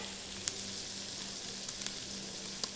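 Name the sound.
soup ingredients frying in a frying pan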